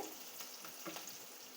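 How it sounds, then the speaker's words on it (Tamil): Onions sauté for a traditional mutton curry, sizzling in a pan, a steady crackling hiss with a couple of soft stirring scrapes. "வெங்காயத்தை நல்லா வதக்கிக்குவோம்"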